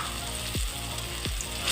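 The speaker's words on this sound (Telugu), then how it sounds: "వేసి కాసేపు వేయించుకోండి, సరిపోతుంది." Ground spinach chutney fries in a pan with a soft, continuous sizzle, broken by two quick scrapes or stirs.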